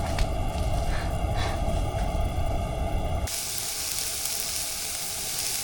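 Onions and peppers fry for a stir fry, producing a steady, close sizzle that cuts abruptly to a brighter, hissier tone partway through.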